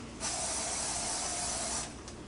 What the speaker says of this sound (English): spray a little bit more grease over them